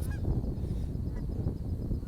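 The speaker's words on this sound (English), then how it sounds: "Some geese." Geese honking loudly and close by outdoors, repeated calls over steady low background noise with no talk.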